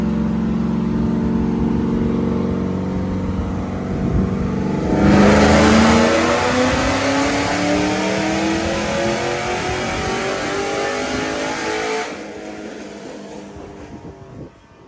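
A fifth-generation Camaro SS with an LSA engine on FlexFuel, run on a dyno and heard from about 25 to 30 feet away, droning loudly and climbing in a long sustained pull before dropping off near the end.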